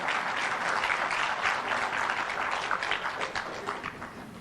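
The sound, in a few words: applause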